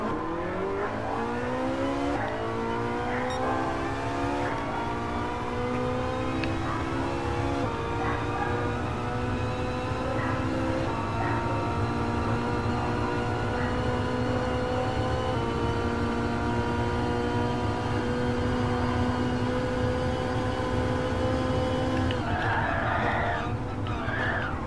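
A tuned 900 hp Ferrari 458 engine revs hard and bounces off its limiter, then blips through downshifts, a loud, steady, harmonic-rich howl rising and falling with a brief crackle near the end.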